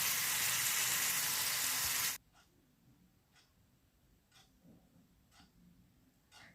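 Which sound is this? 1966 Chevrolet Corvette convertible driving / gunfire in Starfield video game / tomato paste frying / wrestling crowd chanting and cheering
tomato paste frying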